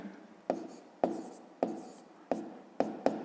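Pen strokes scratch across paper in six quick bursts while a column addition is written out by hand, each stroke starting sharply and fading, close and clear with no talk.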